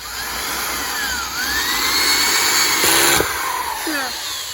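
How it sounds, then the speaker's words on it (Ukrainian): A power screwdriver drives a screw into a wooden board for a raised strawberry bed, its motor whining in short rising and falling bursts over a steady outdoor hiss. "Будемо закручувати наш шуруп і кріпити дошку."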